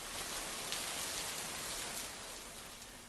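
Heavy monsoon rain pours steadily over Trimbakeshwar in Nashik, a dense unbroken hiss of drops drumming on surfaces that eases only slightly toward the end, with no voices.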